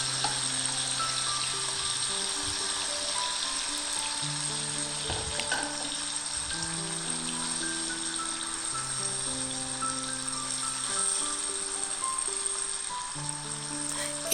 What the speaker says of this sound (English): Our plan is to stir fry this paste for 20 minutes over medium heat.